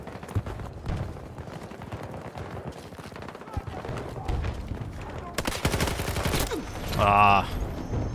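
Gunfire in Battlefield 2042: repeated sharp shots and bursts of automatic fire, some near and some distant, build into a dense volley, with a brief voice-like sound near the end.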